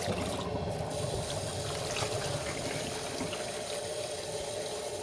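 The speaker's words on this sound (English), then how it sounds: "we're just going to keep rinsing until we're just nearly clear" Shetland wool rinsing in water: a steady, continuous wash of running, trickling water throughout, moderately close and with no talking.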